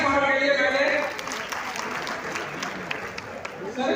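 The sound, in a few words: audience applause for a professor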